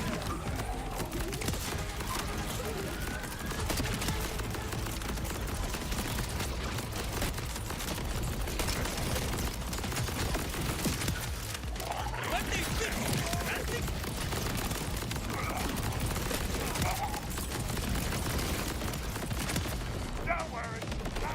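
Constant heavy gunfire and grenade blasts from the video game Borderlands 4 play throughout, dense and loud with a chaotic mix of repeated shots and impacts. A voice talks intermittently over the action.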